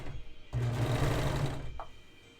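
A serger sewing machine runs in one quick burst of about a second, a close, buzzing mechanical whir with rapid stitching chatter, followed by a short clack as it stops.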